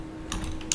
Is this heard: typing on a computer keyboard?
yes